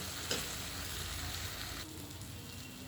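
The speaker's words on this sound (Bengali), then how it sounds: "এবার বেগুন পোড়াটাকে আমি এই পেঁয়াজ ভাজা, রসুন ভাজা আর কাঁচা লঙ্কা ভাজার সঙ্গে একসঙ্গে ভালোভাবে মিশাবো" Roasted eggplant stirred in a pan with fried onion, garlic and green chilli, giving a steady, soft sizzling hiss with a light scrape early on and slightly quieter frying toward the end.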